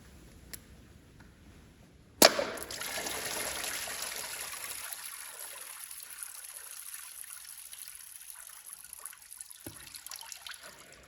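Antifreeze drains from the water pump of a GM 3.6 V6 into a catch pan. A sharp metallic knock is followed by a faint, steady trickle of liquid that gradually thins out in a quiet space.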